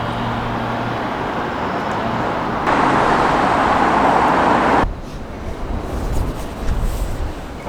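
Steady roar of busy city street traffic in Seattle, cars and buses passing continuously nearby, swelling louder for a couple of seconds before dropping to a rougher, lower rumble.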